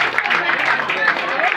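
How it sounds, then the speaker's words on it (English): Audience applause at an award ceremony honouring Sri Aniruddha, with steady, dense clapping that fills the room without a break. "The clap should continue."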